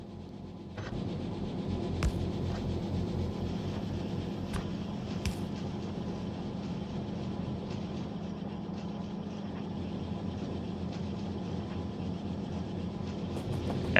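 A train in the factory-building game Factorio rolls along its tracks as a soft, steady mechanical hum and rumble, with a few faint clicks and ticks over the top and no talking.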